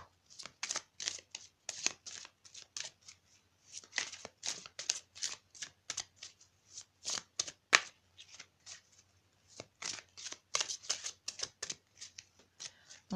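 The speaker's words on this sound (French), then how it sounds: "Alors on va continuer de mélanger un petit peu." Playing cards being shuffled repeatedly during a tarot-style reading, crisp riffling bursts in quick irregular runs, close and clear, with some speech between them.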